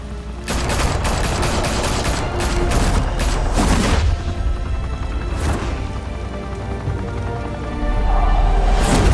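Sustained gunfire in the Telltale Batman game, dense overlapping bursts and booms lasting several seconds, a brief lull around the middle, then heavy firing rising again, loud and continuous without speech.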